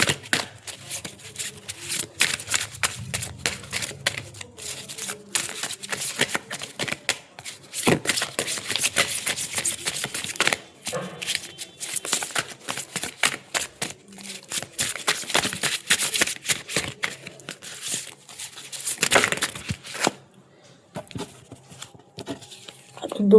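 Tarot cards shuffled and drawn by hand, a busy stream of close papery riffles, slides and taps running almost throughout, with a brief quiet stretch near the end.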